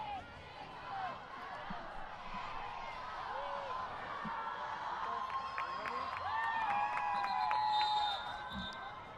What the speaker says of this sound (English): crowd counting down and giving the jump on the umpires